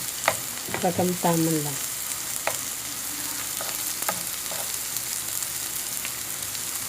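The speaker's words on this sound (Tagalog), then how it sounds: "haluhaluin lang natin. Igisa lang natin siya." Pork sautéing for afritada in a pan, with a soft continuous sizzle under occasional spoon scrapes and knocks, quiet and close. A voice speaks briefly near the start.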